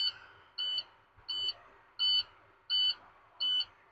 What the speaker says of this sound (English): our light and alarm just went off